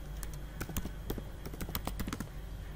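Fingers type quickly on a computer keyboard, nearby and fairly quiet, in an uneven run of light clicking keystrokes with no talk.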